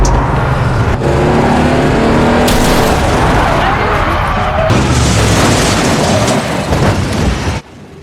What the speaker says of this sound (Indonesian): Ternyata bos penculik dan si Akang berpapasan dan tabrak-tabrakan mobil pun terjadi.